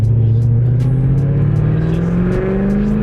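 C5 Corvette V8 engine revving under acceleration, a loud, steady, close roar with pitch climbing smoothly over three seconds, heard alone without talk.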